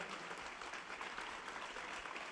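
Faint, distant applause from an audience at a papal general audience in a courtyard, steady clapping throughout without speech.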